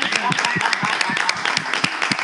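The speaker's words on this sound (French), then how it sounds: "avec quelques applaudissements, s'il vous plaît" A small audience gives welcoming applause at a live event, a loose, moderately dense clatter of individual claps at close range, with faint voices mixed underneath.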